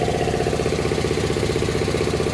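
A 60-gallon air compressor with a newly replaced motor runs at a steady, fast, rhythmic thump and hum, loud and close, with no voices.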